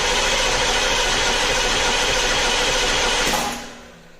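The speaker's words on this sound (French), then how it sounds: "Alors maintenant, je vais dans l'habitacle actionner le démarreur." A car's starter cranks the engine during a compression test on cylinder number six, a loud continuous whirring churn lasting a few seconds before cutting off abruptly.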